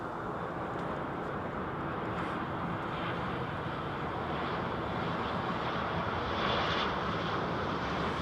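Oman airliner at London Heathrow Airport produces a steady, broad jet engine roar that holds constant throughout, moderately loud with no voices.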